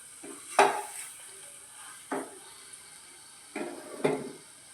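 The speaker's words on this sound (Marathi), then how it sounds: "तुपामध्ये चांगला भाजून घ्यायचा" Four short scraping strokes of a spoon stirring semolina roasting in ghee in a pan, spaced irregularly over a soft, steady background hiss.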